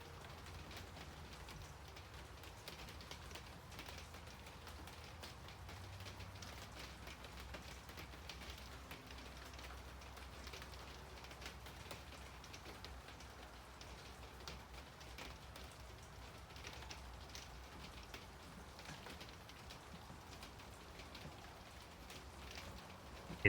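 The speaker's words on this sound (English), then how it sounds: "Let's have a look at Mindy's rain stream morning style" Morning rain falls steadily on a tin roof in a quiet, even ambience, a soft continuous patter with fine drop detail and no voices, ending in a faint click.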